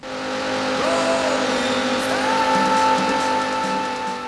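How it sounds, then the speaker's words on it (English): Race car engines from the Sega Saturn game Daytona USA, a steady loud roar with pitch-shifting engine tones that rise as the cars accelerate, with no talk over it. "Gentlemen, start your engines."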